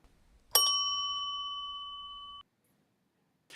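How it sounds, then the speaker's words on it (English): A single bell is struck once, giving a bright ringing tone that sustains for nearly two seconds before being abruptly cut off, alone in quiet surroundings. "he would ring a bell."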